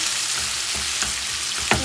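Potatoes and onions frying in hot oil in a pan for chicken curry, a loud, dense, continuous sizzle with a couple of soft stirring scrapes, heard close up.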